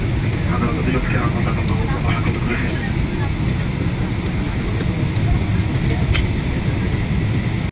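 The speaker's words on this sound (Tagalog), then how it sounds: "sa wakas ay nakapaglanding na nga din ang eroplano" Airliner cabin just after landing in the Philippines on a flight from Abu Dhabi, with a steady loud engine and road rumble filling the whole stretch and a few faint clicks on top.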